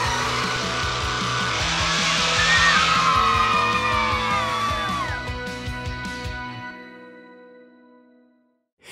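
A monster truck skids with squealing tires and a revving engine, loud and close, then the sound fades away to near silence.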